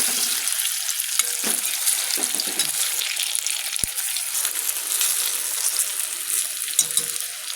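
Ridge gourd flower fritters sizzle in hot oil in a kadai, a loud, steady crackle that continues without a break, with a few soft utensil knocks and no talking.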